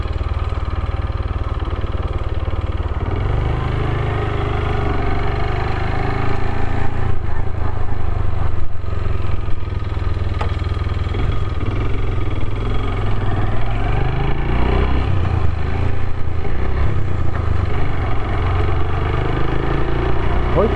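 A Honda Jazz moped engine hums steadily and continuously while riding, the motor droning under constant wind and road noise, close and fairly loud throughout.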